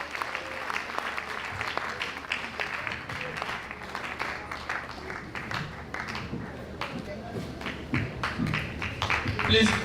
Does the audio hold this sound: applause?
yes